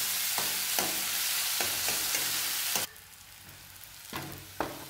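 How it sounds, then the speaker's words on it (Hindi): Chopped medium onions frying in a pan for arhar dal tadka while being stirred, a loud steady sizzle broken by regular spatula scrapes, then quieter with a few more scraping strokes. "अब इस पे हम वो डाल देंगे और इसे हिलाते हुए गोल्डन ब्राउन होने तक भूनेंगे।"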